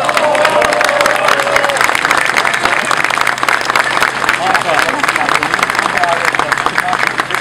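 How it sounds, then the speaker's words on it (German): At an outdoor demonstration against wind farm planning, a crowd applauds with dense, sustained clapping mixed with scattered cheers and murmuring voices, loud and continuous throughout. "Applaus."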